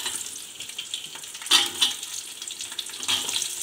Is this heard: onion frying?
yes